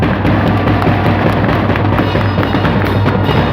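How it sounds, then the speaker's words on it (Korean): A crowd claps at an outdoor political speech in front of Daehanmun gate in Seoul, producing a loud, dense, steady wash of applause that fills the whole moment without a break. "박수 한번 쳐주십시오."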